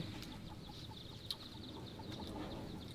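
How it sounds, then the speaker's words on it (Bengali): Chickens cluck in short, scattered calls around a cowshed and poultry pen in an Indonesian village, moderately close over a steady outdoor hum. "ওখানে মুরগি"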